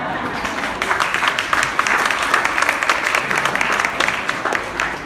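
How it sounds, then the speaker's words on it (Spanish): An audience at a customer service talk bursts into sustained, dense applause, many hands clapping together at an even level throughout the few seconds. "me gustaría que ustedes me le dieran un aplauso al que inventó el Photoshop"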